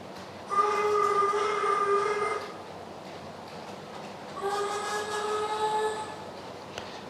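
A model railway train whistle sounds twice, each a sustained harmonic tone of about two seconds, separated by a short pause over faint background noise.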